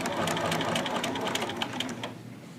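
A sewing machine runs a reinforcement stitch on a zipper bag, giving a close, steady, rapid mechanical whir that eases off slightly near the end.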